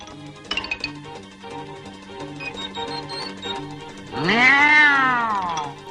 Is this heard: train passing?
no